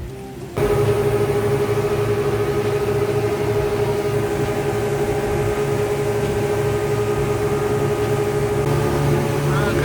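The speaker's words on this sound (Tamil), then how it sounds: "இப்போ எங்களுக்கு போட் வந்து இருக்குது" A boat engine drones steadily at close range, a loud continuous rumble with tonal hum that starts abruptly and holds throughout as the boat arrives at the beach of Coral Island, Pattaya, Thailand.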